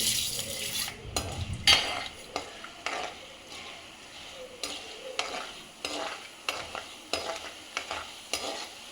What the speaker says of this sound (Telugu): తర్వాత శనగబాలు, ఉద్దిపప్పు వేస్తున్నానండి